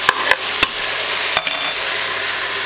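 Onion, celery and carrots sizzle in a hot pan after browned lamb, a steady frying hiss throughout with a few sharp clinks of a utensil against the pan near the start.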